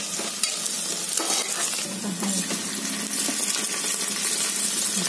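Cumin seeds, onion and chili frying in hot oil for masoor pulao, a bright continuous sizzle with stirring scrapes, close and steady, with no speech.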